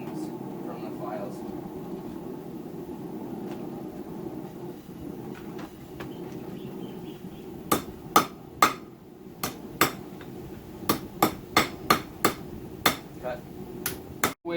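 A hammer rings sharply on a knife blade made from a file, flattening it while forging a seax, with a dozen close, loud blows in uneven rhythm over a steady low background hum.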